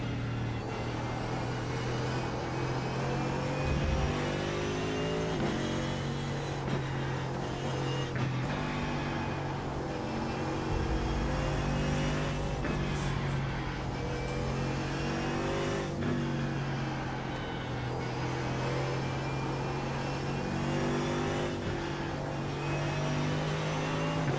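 Race car engine in the iRacing simulator, a steady loud drone with pitch rising and falling as the driver lifts and gets back on the throttle, continuous over the whole stretch with no talk.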